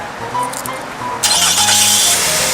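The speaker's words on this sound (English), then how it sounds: "the vehicle is going to go ahead and start up for you with 200 feet and in" A 2013 Nissan Altima firing up by remote start: quiet idle-like hum, then a sudden louder surge of engine noise as it catches, settling into a steady running tone.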